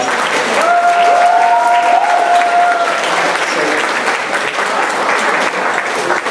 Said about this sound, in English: Can you guys please give her a huge round of applause?